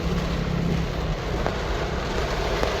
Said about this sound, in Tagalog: It's raining here